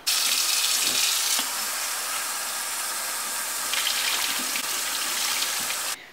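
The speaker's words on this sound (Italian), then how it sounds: "le metto sotto l'acqua fredda" Cold tap water gushes steadily from a faucet onto boiled potatoes for several seconds, a loud, continuous splashing rush that shifts slightly in tone and then cuts off at the end.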